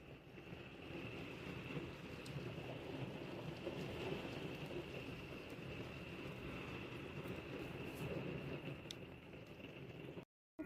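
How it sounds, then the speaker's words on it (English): Thunderstorm with hail outdoors, a dense, constant hiss and patter of falling rain and ice with a low rumble beneath, steady and loud until it cuts off abruptly at the end. "storm's starting to move in. And we have hail."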